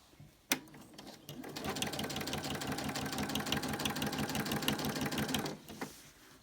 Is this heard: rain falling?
no